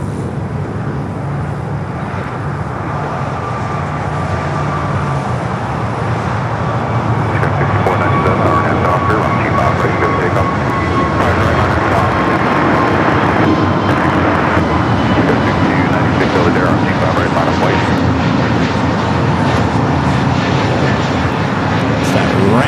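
A Frontier Airbus A320neo taking off on runway 25 right at LAX, a loud, steady jet-engine roar that fills the whole stretch without easing.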